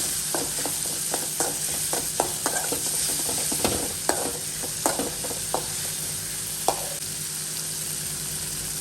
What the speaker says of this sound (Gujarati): લસણ અને મરચાંની પેસ્ટ બનાવેલી હતી એને આપણે આમાં ઉમેરી દઈએ સારી રીતે હલાવી લઈશું